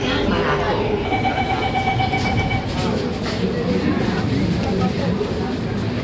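An Ahmedabad Metro train at Old High Court station rumbles steadily and loudly throughout, with a faint tonal whine from the carriage and a murmur of voices in the background.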